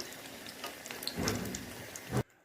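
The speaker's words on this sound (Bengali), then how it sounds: "এইভাবে করে আমি কিন্তু প্রত্যেকটা পিঠেটাকে ভালোভাবে ভেজে নেব" Bengali kakra pitha cakes sizzling in hot oil, a dense crackling hiss that swells midway and cuts off abruptly near the end.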